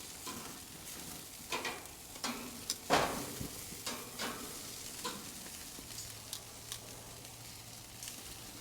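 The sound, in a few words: carne asada and chicken wings sizzling on a gas grill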